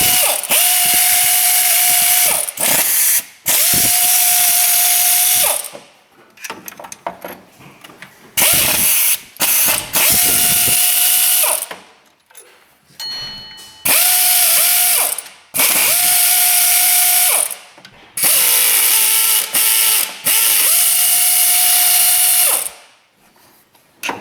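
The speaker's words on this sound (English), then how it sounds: "we'll just start zipping some bolts out of this thing" A ratchet with a 13 mm socket zips bolts off a Jeep Liberty pulley, giving loud rapid clicking bursts several seconds long, separated by short pauses, close by.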